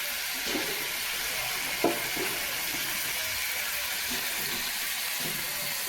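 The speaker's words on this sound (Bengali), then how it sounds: "এখন আমি এর মধ্যে জল দিয়ে দেবো" A small amount of water hits a pan of sizzling spice mix for a raw mango and small fish chorchori, producing a steady hissing sizzle with a few soft splashy bursts.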